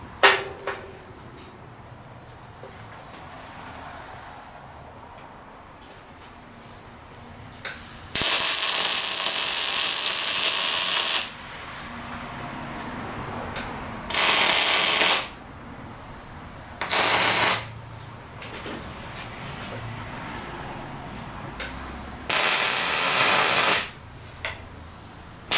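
Welder tack welding the frame of a welding skid together, four loud crackling hiss bursts of a few seconds each, separated by quiet pauses in a workshop.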